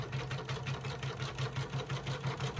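An embroidery sewing machine stitches out a name in a steady, rapid mechanical rhythm, running close and continuous with regular pulses throughout.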